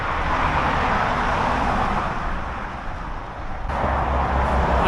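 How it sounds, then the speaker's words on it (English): Heavy road traffic as loud as a motorway pours past a rural pilgrim walking route in a continuous deafening roar, dipping briefly before swelling again as more vehicles rush by close at hand. "that traffic noise is absolutely deafening"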